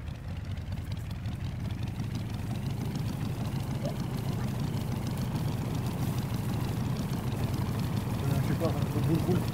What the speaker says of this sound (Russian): Буль-буль-буль-буль-буль-буль-буль работает двигатель